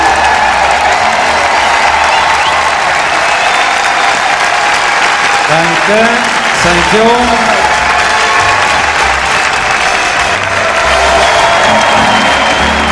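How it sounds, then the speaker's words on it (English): A large audience at a world standard ballroom dance championship applauds and cheers continuously, loud and dense throughout, with whoops and crowd noise, while a brief voice speaks over it partway through. "the applause keeps on coming"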